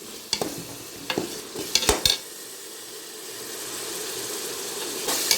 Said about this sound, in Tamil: இஞ்சி பூண்டு செலவு தண்ணி போய் வத்தி இப்போ எண்ணெய் நெய்யில் வேகுது பாருங்க